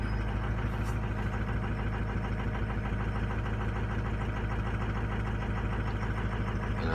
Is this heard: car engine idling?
yes